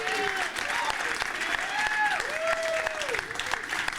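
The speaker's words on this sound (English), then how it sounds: "So how about a round of applause for Rick and Adam?" Crowd applause for Ric Flair and Adam on stage at a charity evening, continuous clapping with cheers and whoops rising over it.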